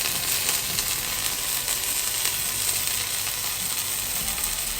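Sous vide pork belly searing in a hot pan, a loud, continuous hiss and crackle of sizzling fat with faint ticking pops running through it, close and steady with no speech.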